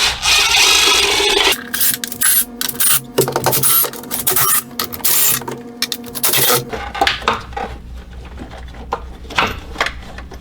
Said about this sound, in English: now remove the valve cover bolt